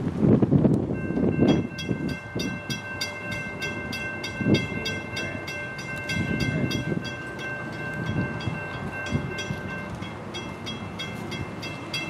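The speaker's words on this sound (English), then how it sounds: "we heard that Amtrak 91 was coming south on the line with a special interest unit second out" Amtrak train 91 heading south past a siding in South Florida, with steady rail rumble, rhythmic wheel clatter and a sustained horn tone over it for much of the time, fairly close.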